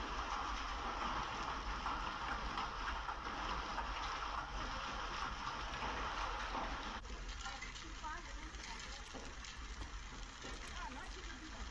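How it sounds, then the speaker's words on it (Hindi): Hail and rain pouring down in Jeevan Nagar, Haryana, a continuous hiss of falling ice and water with a faint voice talking over it and a slight shift in the texture partway through. "और अभी भी ओले जारी है।"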